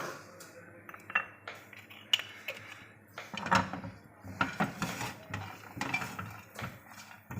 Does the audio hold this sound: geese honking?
no